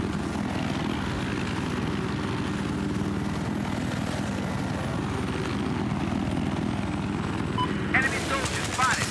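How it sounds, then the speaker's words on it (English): An attack helicopter in Battlefield 4 drones with a steady, loud rotor and engine roar that holds throughout, with a brief burst of other game noise near the end. "Enemy chopper spotted."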